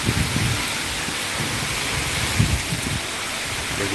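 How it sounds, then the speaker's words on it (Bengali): Rain falls during Cyclone Remal, a dense steady rush on nearby surfaces with low rumbling undertones, continuous and fairly loud with no voices. "বৃষ্টি পড়ছে ফোটা ফোটা।"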